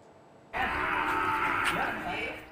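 Cattle lowing at a livestock market in Tasikmalaya where cows and buffalo are being checked for foot-and-mouth disease; a sustained moo starts abruptly and carries on loud and close for about two seconds against background murmur.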